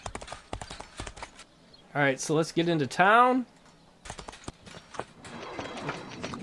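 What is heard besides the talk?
horse trotting hooves in Expeditions Conquistador video game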